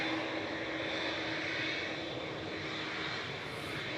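A Boeing 787-8 Dreamliner jet at Manchester Airport gives a steady, broad engine roar that holds at moderate loudness throughout, with no talk over it.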